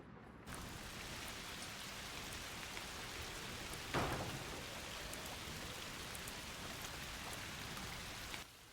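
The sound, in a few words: rain falling, from the video game A Plague Tale Requiem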